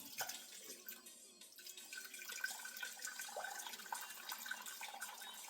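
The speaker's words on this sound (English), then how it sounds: "Throw off the water for the jackfruit." Water from a pot of soaked jackfruit pours and splashes steadily into a sink, a continuous rushing flow with faint clinks, nearby and moderately loud.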